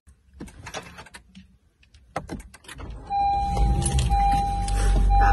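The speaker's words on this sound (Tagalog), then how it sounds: "inilipat ko lang po yung sasakyan" A car being moved in a parking area behind a house: scattered clicks and handling noises, then the engine starts and runs steadily at moderate loudness with a faint tone over it, quite close.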